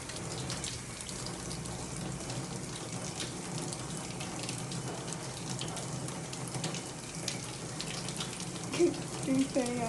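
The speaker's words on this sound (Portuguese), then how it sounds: "a gente só vai colocar um pouquinho de água só" Water runs steadily from a tap during handwashing, a continuous close splash and hiss over a sink lasting throughout, with a few faint clicks near the end and no clear talking.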